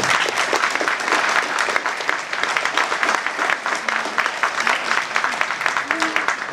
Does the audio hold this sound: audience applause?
yes